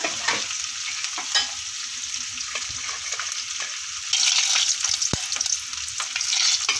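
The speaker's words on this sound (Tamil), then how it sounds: "இப்போ அப்பளப்பை பொறிச்சு எடுத்துடலாம்" Appalam papads frying in hot oil for appalam kuzhambu, a steady bright crackling sizzle with intermittent stirring or handling sounds, growing louder partway through.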